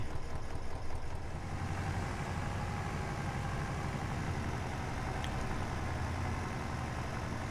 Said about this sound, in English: The tractor might not be harvesting beets, but considering that trailer it's pulling, it's not doing too bad.